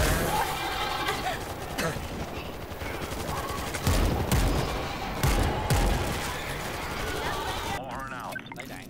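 Rapid bursts of gunfire in the zombie video game World War Z crackle almost continuously, with sharper shots and crashes standing out under a steady backdrop of noise.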